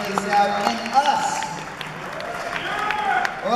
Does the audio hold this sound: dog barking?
no